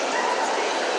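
An excited dog whines and yips with anticipation just before sport training, a brief burst of high, restless whimpering over steady background noise.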